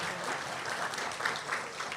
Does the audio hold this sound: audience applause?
yes